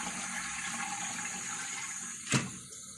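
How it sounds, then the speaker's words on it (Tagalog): A newly installed siphon toilet flushes with a steady rush of water, ending in a short gurgling surge near the close. "flush natin muna"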